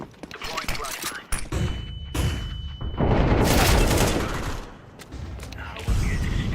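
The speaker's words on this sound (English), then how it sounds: "Deploying flashbang." A flashbang grenade goes off in a video game with loud booming bursts and a thin, high ringing tone that lingers afterward, set among clattering gunfire-like blasts and mechanical noise.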